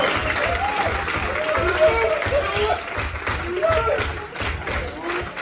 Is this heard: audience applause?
yes